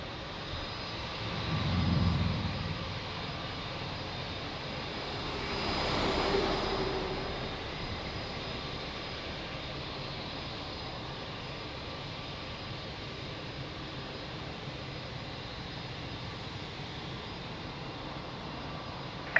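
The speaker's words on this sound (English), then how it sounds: "Now that's a proper 330 landing." An Airbus A330 landing at Lisbon Airport: a broad, steady roar lasts throughout, with a louder low rumble near the start and a second swell a few seconds later. After that it fades to a constant hiss.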